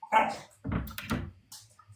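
A dog barks and yelps in several loud, close bursts separated by short pauses, with no talk over it.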